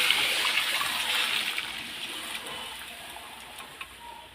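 Hot water poured into a pan of chana dal makes a continuous splashing gush with no one talking, easing slightly as the pour goes on.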